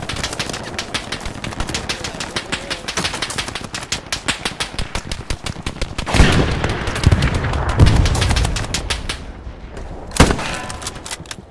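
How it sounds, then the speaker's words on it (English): Machine gun fire in the video game Hell Let Loose, loud rapid bursts of automatic shots hammering in long strings, with a few heavier booming impacts close by. "There's an MG nearby just suppressing the shit out of me."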